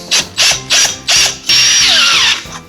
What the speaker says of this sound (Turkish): önce şöyle yerde bir vida çakacağım